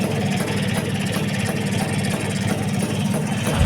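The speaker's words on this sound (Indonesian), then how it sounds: "Ini aki udah kepasang, sekarang kondisi motor udah nyala ya teman-teman." A Vespa scooter engine idles with a steady, dense, rumbling drone, close and loud throughout, with no voices.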